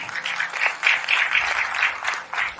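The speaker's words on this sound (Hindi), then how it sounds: "एक जोरदार तालियां" Audience applause at a business seminar in India, a steady wash of clapping from a crowd that holds for a few seconds without talk.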